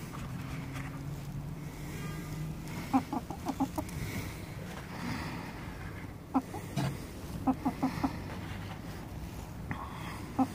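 Hens in a coop give short bursts of clucking in quick clusters, moderately close, over a steady low background murmur.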